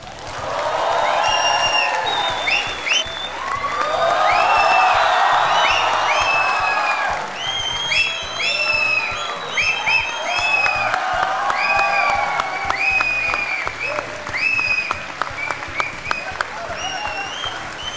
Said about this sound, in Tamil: நீங்க உங்க கைத்தட்டல நிறுத்தாதீங்க